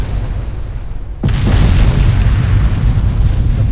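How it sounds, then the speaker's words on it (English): A torpedo strikes a warship in the naval battle game Ultimate Admiral: Dreadnoughts, bursting into one loud, sudden boom that settles into a dense, sustained rumbling roar over steady low background noise, with no talk. "Torpedo hits, flooding."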